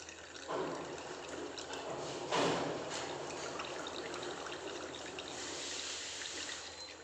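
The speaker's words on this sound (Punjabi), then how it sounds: "ਇਸ ਤਰ੍ਹਾਂ ਇਹਦਾ ਆਪਾਂ ਸਾਰਾ ਪਾਣੀ ਕੱਢ ਲਵਾਂਗੇ" Water trickles and splashes steadily at a quiet level, with a couple of brief louder pours, as water drains from freshly made paneer.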